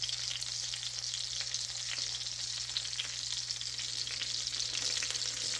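Steady, even sizzle of chicken fried cubed steak frying in a pan of oil, a constant bright crackle with no talking and a low steady hum underneath.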